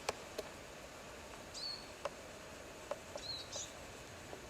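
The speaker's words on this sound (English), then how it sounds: "There's birds calling." Birds calling in a mossy forest near Killarney, Ireland: a few faint, scattered chirps and short whistled notes against a quiet hiss, well spaced and somewhat distant.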